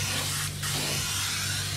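Spray paint hisses steadily and close up while a patina coat goes onto an R/C car body, one continuous aerosol stream with a brief dip midway and a low hum beneath.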